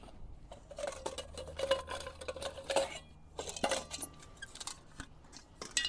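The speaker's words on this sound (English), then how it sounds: "You have like a little frying pan. You have a couple of saucepans." Small camping cookware, a little frying pan and a couple of saucepans from a Trangia set, is handled close by, giving quiet, scattered metallic clinks and scrapes in an irregular rhythm.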